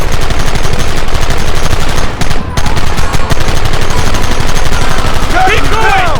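Rapid, continuous gunfire blasts loudly in a Red Dead Redemption gameplay battle, with dense machine-gun style bursts and a brief lull partway through, while faint shouting voices come through under the shooting.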